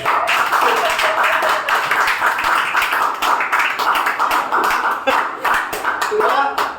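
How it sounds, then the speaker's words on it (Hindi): Students in a classroom lecture clap together in a dense, steady burst lasting several seconds, with some voices mixed in. "गर्ल्स के लिए स्पेशल, इसके लिए भी तालियां बजाओ प्लीज।"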